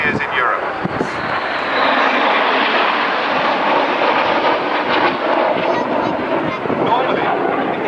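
Red Arrows jets roar through formation aerobatics at the 2011 Koksijde airshow in Belgium, a loud continuous engine rumble that holds steady throughout, with a commentator talking over it.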